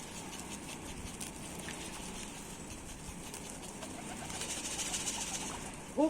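Pigeons cooing and fluttering outdoors, a low murmuring coo under soft wing patter and flapping, with a brief louder flutter at the end.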